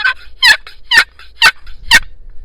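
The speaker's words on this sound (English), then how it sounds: "I called some turkeys in." Wild turkeys gobble in a rhythmic series of four or five sharp bursts, moderately close and clear over a quiet outdoor background.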